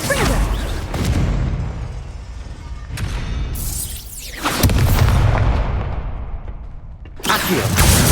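Confringo fire spell blasts in Hogwarts Legacy go off as several heavy booming explosions, each with a fiery whoosh that trails away before the next loud burst.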